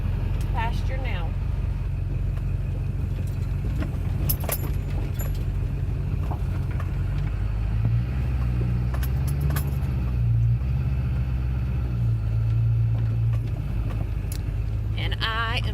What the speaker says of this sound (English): hauling the tractor and brush hog out to the pasture now